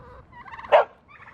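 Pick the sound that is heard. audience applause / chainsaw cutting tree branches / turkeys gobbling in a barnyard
turkeys gobbling in a barnyard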